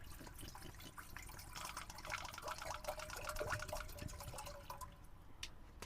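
Bottled water poured inside a box truck conversion while boondocking, a soft continuous trickling and splashing stream at close range, fairly quiet, with no voices.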